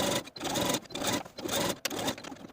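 Sewing machine stitching bias tape onto the seam allowance of a cotton apron, a steady close whir in short bursts with brief pauses between runs.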